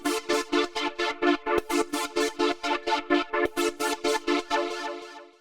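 Synth chord chopped into a fast rhythmic gating stutter in KORG Gadget, sharp evenly spaced pulses of bright sustained tone repeating steadily for several seconds before fading out.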